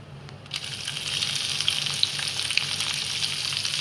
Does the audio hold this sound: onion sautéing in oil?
yes